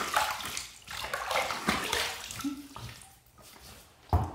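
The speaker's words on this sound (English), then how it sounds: "Let's go ahead and dump that off, that water off there." Soaking water is dumped off a tub of bay rum luxury shave soap, making a close, splashy pour and slosh that comes in uneven bursts, ending with a louder splash.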